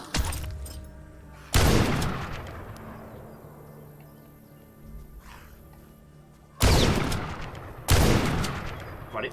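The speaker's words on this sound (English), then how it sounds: "So the shotgun brings the noise." Shotgun blasts in the video game The Last Stand Aftermath: four loud, booming shots spaced unevenly, each with a sharp crack and a lingering decay into quieter game ambience.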